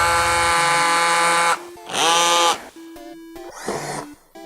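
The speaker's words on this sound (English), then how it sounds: "I'm gonna use a smaller router. I'm gonna see if I can slowly" A small router cutting a bezel hole out of a production cart: loud, high-pitched whining bursts that start, stop and restart in short passes, close and without talk.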